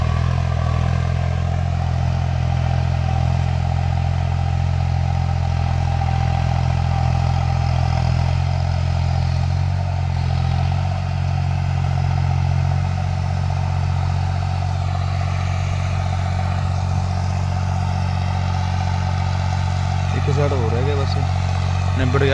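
A New Holland tractor runs steadily in a field working straw into the soil, its deep engine drone constant and close throughout, with a voice talking over it.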